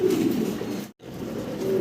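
Show-quality red Lahori pigeons cooing steadily and close by, a low continuous murmur of calls with one brief dropout midway. No talking.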